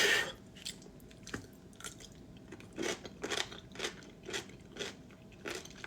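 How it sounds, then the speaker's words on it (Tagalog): Crunchy chewing of cucumber pickles, close to the mouth, a series of crisp bites and wet crunches repeating at an irregular, unhurried pace against quiet. "Sorry kung medyo magiging maingay yung nguya ko kasi medyo matunog yung mga kakainin ko."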